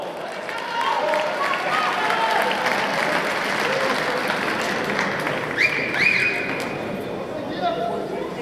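Sustained applause from a large crowd at a professional full contact world title fight in Thionville, France, steady and full for several seconds, with a few whistles and cheers rising midway.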